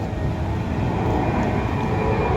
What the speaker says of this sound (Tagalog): Ay, may aeroplano pa oh.